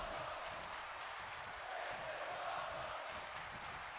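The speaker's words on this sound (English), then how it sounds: "The crowd is cheering, "This is awesome." They're clapping, "This is awesome."" A wrestling crowd cheers and claps in a dense, steady roar that fills the whole stretch without a break, with a slight swell near the middle.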